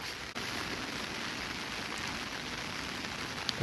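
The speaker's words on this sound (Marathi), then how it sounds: "कालपासून खूप प्रमाणाच्या बाहेर पाऊस पडतोय, म्हणजे जबरदस्त" Heavy monsoon rain falls over farmland in Konkan, a steady, fairly faint wash of hiss that stays even from start to finish, with no one speaking.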